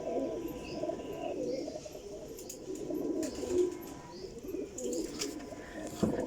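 Golden teddy pigeons coo in soft, overlapping murmurs that run continuously through the stretch, with faint chirps above and no voices.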